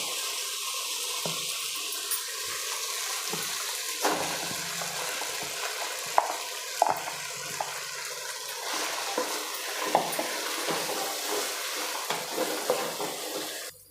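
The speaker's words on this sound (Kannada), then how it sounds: "ಈಗ ಎಣ್ಣೆಯಲ್ಲಿ ಸ್ವಲ್ಪ ಬೇಳೆ ಫ್ರೈ ಆಗಿದೆ ಈಗ ನಾನು ರುಬ್ಬಿರೋ ಮಸಾಲೆಯನ್ನು ಸೇರಿಸ್ತಾ ಇದ್ದೀನಿ" Steady oily sizzling of ground masala frying with lentils in oil in a pan, with occasional scrapes and clicks of a spoon stirring, no voices.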